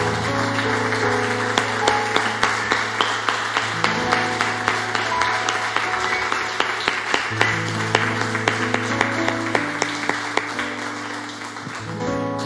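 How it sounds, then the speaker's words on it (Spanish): A church congregation claps steadily in sharp, rhythmic slaps over sustained worship music, filling the sanctuary with a dense, even patter that softens slightly near the end. "Denle un aplauso al Señor"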